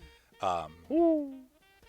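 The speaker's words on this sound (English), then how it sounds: "You hear a lot of big owls in the area." Large owls hooting in trees, two close hoots, the first rough and the second a longer falling tone, over a quiet background.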